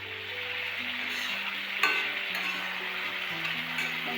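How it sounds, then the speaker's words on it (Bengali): Spice paste of ginger, onion, turmeric, cumin powder and salt is stirred and fried with vegetables for a red bhola fish curry with taro and aubergine, a steady close sizzle with a sharp utensil scrape near the two-second mark. "মশলাগুলো কষিয়ে নেবো"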